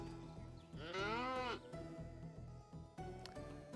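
Cow lowing in the game Odd Realm, a single long wavering moo lasting about half a second, loud and close, over a steady low game music bed.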